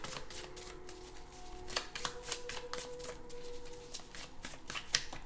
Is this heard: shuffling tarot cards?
yes